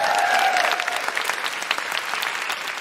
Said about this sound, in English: Big round of applause for Helena.